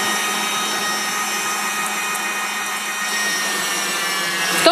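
An electric hand mixer whips egg whites into stiff peaks in a home kitchen, giving a steady, close, high-pitched motor whine with a slight change in tone near the end. Nobody speaks over it.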